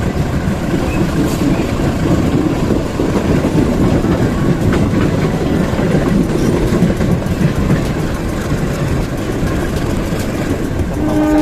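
An Indonesian passenger train pulls away from Cikampek station in heavy rain, carriages rumbling loudly with steady clickety-clack wheel rhythm heard from aboard, continuous throughout.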